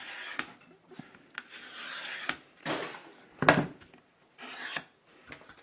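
Scraping trimmed edgebanding along a wooden campervan kitchen drawer, a series of short rasping strokes, close and fairly quiet, with brief pauses between passes.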